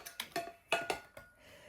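Several light metallic clinks of pots and lids knocking together, close and quick, in an irregular rhythm.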